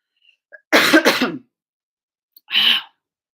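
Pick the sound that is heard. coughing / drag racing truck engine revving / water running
coughing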